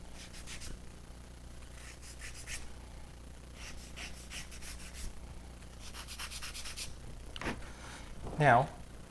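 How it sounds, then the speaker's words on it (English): Repeated rhythmic rubbing strokes of a sanding block on balsa model aircraft parts, soft and close, in short bursts with pauses and a brief louder scrape near the end. "We'll go ahead and use the sanding block to clean it up."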